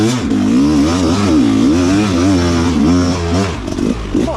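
A hard enduro motorcycle ridden aggressively, its engine revving up and down continuously with rising and falling pitch, loud and close as if from the rider's position, with some clatter near the end.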